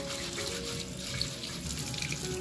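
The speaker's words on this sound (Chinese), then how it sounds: "把泥沙洗干净，再刨去皮。" Tap water runs steadily over freshly dug sweet potatoes being washed of mud and sand, a close, continuous splashing rush with no voices.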